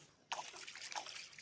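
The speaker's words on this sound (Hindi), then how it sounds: "वो पानी कितनी स्पीड से बह रहे हैं।" Brahmaputra river water rushing fast, a close, steady sloshing and trickling wash that starts abruptly and continues without pause.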